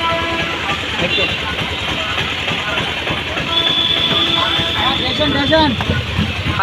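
Railway station ambience in India with a train present, a continuous mix of rumbling engine noise and crowd murmur, people talking throughout under the steady din.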